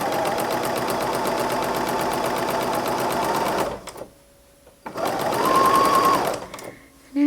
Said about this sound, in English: I'm going to stitch it closed.